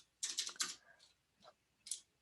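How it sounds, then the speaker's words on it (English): Keys clatter on a computer keyboard in a quick burst of close taps, then a pause and a few scattered single keystrokes, quiet and dry with no talking. "Oh boy, having trouble typing."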